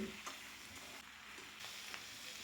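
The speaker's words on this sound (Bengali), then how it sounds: "সবজিগুলোকে আমি ভাজতে থাকবো চার থেকে পাঁচ মিনিট অবশ্যই গ্যাসের ফ্লেমটাকে মিডিয়ামে রেখে" Mixed chopped vegetables, cooked for a cabbage and prawn chorchori, fry in a pan over a medium gas flame, giving a soft, steady sizzle with occasional stirring scrapes, fairly quiet and without talk.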